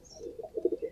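A Dubwale pigeon coos softly and close by in a short series of low, throaty pulses that grow stronger toward the end.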